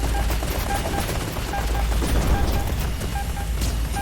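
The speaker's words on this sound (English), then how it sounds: "It looks like the last bullet in the clip does some sort of super explosion." Dense, continuous gunfire rattles from the shooter video game STHELL, a steady mechanical stream of shots with a deep rumbling low end, loud and unbroken throughout with no speech.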